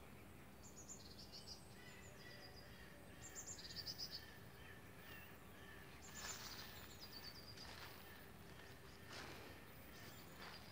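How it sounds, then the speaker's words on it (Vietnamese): Birds sing and chirp in a quiet winter garden, short bright phrases scattered across the scene at moderate distance over soft background noise, with no talking. "Ở nhà nghe tiếng chim không?"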